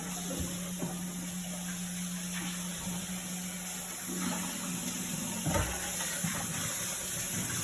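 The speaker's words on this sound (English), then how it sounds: "I'm just using hot water. I'm giving everything a rinse" Steady rush of hot tap water running into a sink, with faint clinks and knocks of dishes being rinsed underneath.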